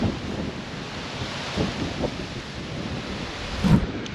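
Strong wind roars steadily in Anapa, rough and blustery against the microphone, with gusts swelling near the end and no voices.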